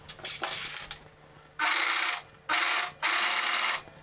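An overlock sewing machine stitches a polo shirt slit in fast whirring mechanical bursts, one longer run then three short runs with brief pauses between, close and fairly loud.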